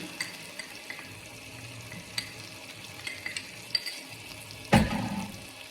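Egg masala with spices sautés in a pan at low volume: a soft sizzle under scattered spoon taps and scrapes, then a louder clatter near the end.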